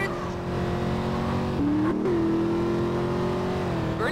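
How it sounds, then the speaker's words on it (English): A car in a video game doing burnouts, its engine roaring steadily at high revs with a sustained drone and pitch wobbles, loud and close throughout. "Burnouts are cool, but they eat your tires."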